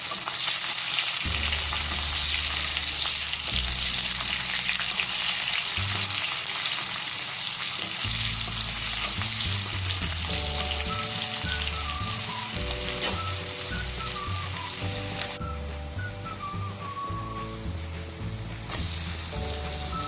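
Cumin seeds and chopped onion sizzle steadily in hot oil with dried chilli and cardamom, part of a traditional Assamese ivy gourd fry; the continuous frying hiss sits under background music throughout.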